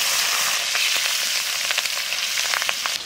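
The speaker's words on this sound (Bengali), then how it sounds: "ওটা কাঁচা লঙ্কাও দিয়ে দেবো" Green chillies crackle and sizzle in hot oil left from frying fish, with black cumin in the pan, a dense steady hiss with sharp little pops scattered throughout, close and fairly loud, no talking.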